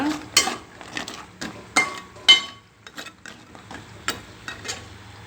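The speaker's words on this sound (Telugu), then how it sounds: "గవ్వలు రెడీ అయిపోయినాయి పాకంలో కలుపుకోవాలి ఇలా" Wheat flour gavvalu being stirred into hot jaggery syrup, with a series of scraping clinks of a spoon against a metal pan, irregular and close, with no talking.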